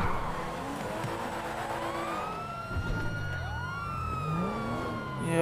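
A wailing police siren in GTA V rises and falls across several sweeping cycles during a chase, steady and fairly loud, with car engine noise underneath and no talking.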